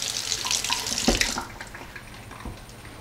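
Liquid from a can of beans poured off through a small colander, a close splashing gush that peaks near the middle and then tapers into softer trickles and drips, with no voices.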